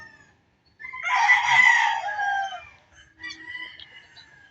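A rooster crows loudly and close by on a farm, one long strained call, followed by softer clucking and calls from other chickens.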